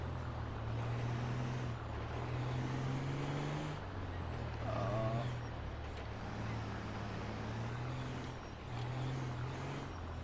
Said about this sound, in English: Can I park my truck in here?